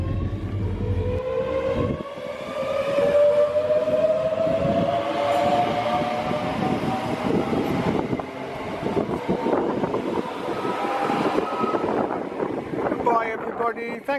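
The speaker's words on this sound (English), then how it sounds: "It was 90029 on the Schenker label, and that was hauling a Virgin Electric train." Class 90 electric locomotive 90029 in Schenker livery hauls a Virgin electric passenger train past, a loud sustained rumble and rising whine with wind buffeting the microphone throughout.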